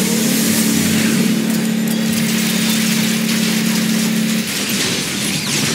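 A loud vehicle engine in the video game Transformers: Rise of the Dark Spark drones steadily at a constant pitch, then cuts and shifts abruptly near the end, leaving a rougher mechanical rumble.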